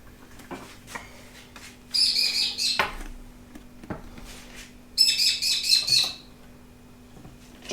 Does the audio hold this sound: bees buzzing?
no